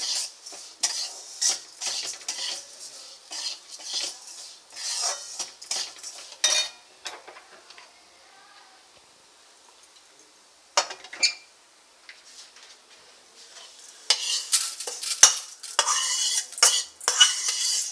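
Fried moong dal being scooped and scraped out of a metal pan in a home kitchen, with repeated spoon-on-pan clinks and stirring scrapes in bursts, a quiet pause in the middle, then busier scraping near the end.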